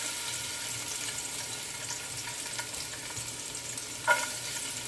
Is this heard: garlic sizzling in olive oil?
yes